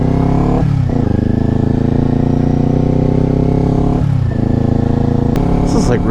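Motorcycle engine in a game, riding with a loud steady drone and the pitch shifting through gear changes, while a voice talks over it.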